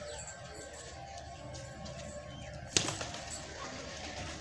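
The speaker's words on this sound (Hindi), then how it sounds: "ये फिर रहे हैं सारे के सारे कबूतर" Faint outdoor ambience with a sudden flutter of wings midway, a quick flapping burst from pigeons taking off nearby.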